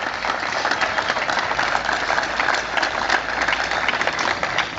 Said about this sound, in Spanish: quería pedir un fuerte aplauso para el compañero Rodolfo Tailade